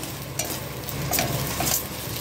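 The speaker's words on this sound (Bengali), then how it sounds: "আবারও বেশ কিছুক্ষণ নাড়াবো।" Loitta shutki fish paste sizzles steadily in a pan while a spoon stirs and scrapes through it, a close, continuous frying hiss with light scraping strokes on top.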